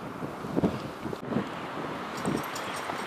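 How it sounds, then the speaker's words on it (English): Wind blowing through a winter snowstorm on a farm, a gusty rushing roar buffeting the microphone, with several stronger gusts swelling and fading. "I gotta brave the wind and the cold and get through the snow drifts"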